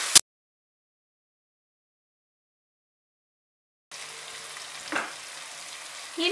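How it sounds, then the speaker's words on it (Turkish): Sauce seasoned with pepper and salt sizzles steadily in a pan after a brief sharp noise and a long silence, with a swell of stirring scrape partway through, close up and moderately loud without talk. "Ve şöyle bir karıştırıyorum."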